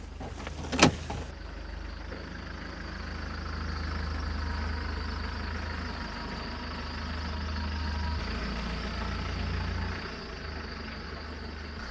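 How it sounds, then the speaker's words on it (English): Converted fire truck engine running while driven, a low steady drone with gentle rises in revs, preceded by a sharp knock near the start. "I'll drive her a bit more before we go and start ripping her apart."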